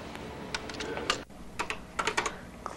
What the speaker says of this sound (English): type in this little program.